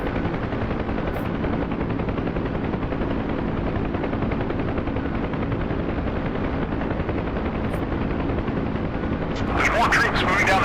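Huey helicopter in the DCS combat flight game, a steady loud rotor and engine drone throughout, with a burst of sharp rocket launches and gunfire crackling near the end.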